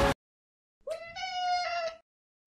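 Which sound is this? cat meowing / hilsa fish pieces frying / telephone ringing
cat meowing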